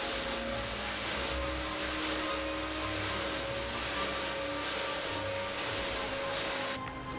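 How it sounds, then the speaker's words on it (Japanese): A vacuum cleaner runs steadily over a fabric sofa that has been sprinkled with baking soda, giving a loud continuous whine with a constant tone that holds throughout and dips slightly at the very end. "掃除機をかけます。"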